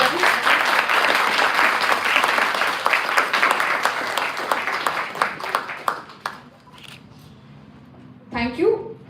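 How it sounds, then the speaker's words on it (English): Dense applause from an audience at a law college valedictory ceremony rises full and loud, then thins into scattered claps and fades out, with a brief voice near the end. "A huge round of applause for all the participants."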